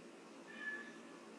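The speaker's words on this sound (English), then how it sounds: "Can you hear my cats?" Household cats cry faintly from somewhere off in the room, one short, thin meow rising briefly over a quiet background.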